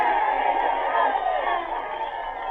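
A crowd cheers and shouts steadily at a Mulberry Street parade in a 1940 radio drama, a dense, sustained roar of voices holding throughout.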